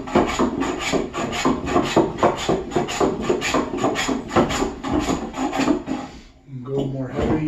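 Hand plane scrubbing across the grain on white cedar, removing high spots: a steady run of rhythmic rasping strokes, close and loud, each a short scraping pass, with a brief pause near the end.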